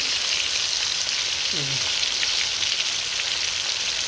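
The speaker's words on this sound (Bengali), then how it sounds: "সবগুলো একসাথে একটু ভাজবো" Hilsa fish pieces fry in oil in a pan, giving a close, continuous sizzling hiss that stays steady throughout.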